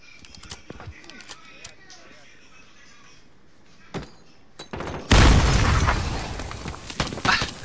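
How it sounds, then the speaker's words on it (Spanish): In-game explosion in Call of Duty: Modern Warfare hardcore mode: after scattered sharp clicks and pops, a sudden loud blast erupts and rumbles on with crackling debris, close and dominant. "Una explosión, dice, que explosión."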